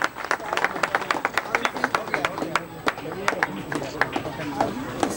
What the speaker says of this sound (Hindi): एक बार जोरदार ताली से इस पंडाल को गुंजायमान हम सब कर दें